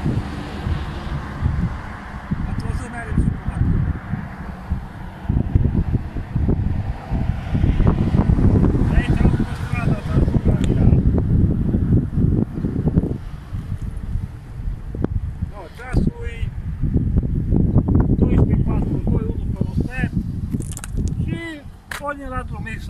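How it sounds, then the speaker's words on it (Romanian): Wind blows outdoors near the Turda micro area, a continuous buffeting rumble gusting against the microphone while people talk throughout. "pe aici bate vântul"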